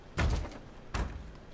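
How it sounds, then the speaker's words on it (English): Someone bangs twice on a wooden door in The Witcher 3 video game: two heavy, muffled thuds about three-quarters of a second apart, fairly quiet, with no speech. "He's just banging on a door."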